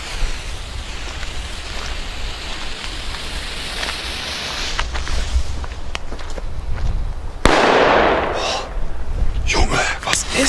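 Chinese firecrackers on New Year's Eve: a steady crackling hiss of small bursts runs throughout, then a loud burst near the end sets off dense, fizzing pops and crackles.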